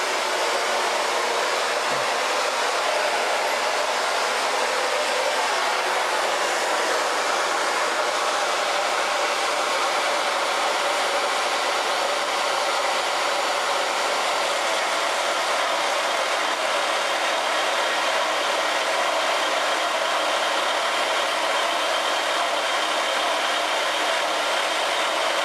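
A 2107F portable band saw runs continuously with a steady, even whine and hiss that holds level throughout, with no talk.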